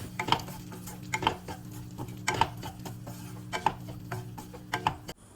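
Fried prawns with spices being sautéed in a pan: a metal spatula clinks and scrapes against the pan about once a second, five or six crisp strokes up close with a faint hum beneath and no voices.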